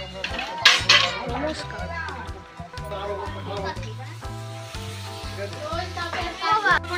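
Pots, pans and metal utensils clink and scrape in a village kitchen during cooking, with rhythmic clattering and a faint sizzle, while people chat over the clatter throughout.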